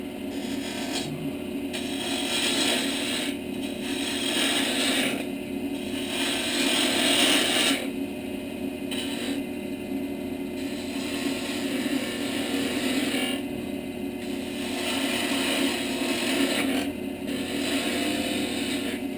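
A turning tool cuts a spinning piece of wood on a lathe, shaping a rounded finial for a birdhouse, with a continuous close scraping rasp that swells and fades in waves as shavings peel off. The motor hums steadily underneath.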